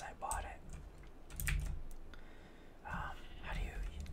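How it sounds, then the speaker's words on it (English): Typing on a Razer BlackWidow mechanical keyboard gives soft, close clicking keystrokes in short bursts under quiet whispered speech. "it's the Razer Black Widow mechanical keyboard. It sounds really good."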